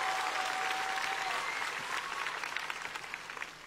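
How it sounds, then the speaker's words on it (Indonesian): Congregation applauding at a church healing crusade in Turen, a broad sustained wash of clapping that gradually thins and fades, with a faint steady tone early on. "Berikan tepuk tangan sekali lagi buat Tuhan."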